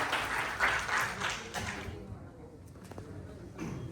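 An audience at a Yuva Sansad youth parliament event gives loud applause for a chief guest, dense clapping for about two seconds that thins out into scattered claps and room noise.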